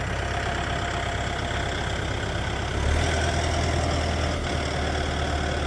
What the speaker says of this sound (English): Big tractor, little garden.